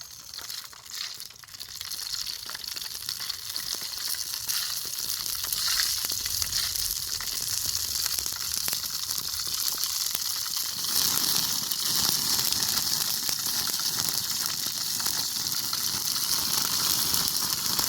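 Coconut oil sizzling hot in a pan, a steady crackling frying hiss close by that swells louder in the second half, with no talking.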